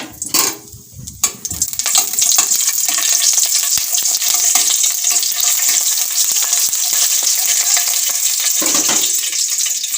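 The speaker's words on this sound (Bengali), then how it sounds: "শুকনো লঙ্কা কেটে তেলে দিয়ে দিলাম" Chopped dried red chillies hitting hot oil, a loud, dense crackling sizzle that flares after a few clattering knocks and holds steady, close up.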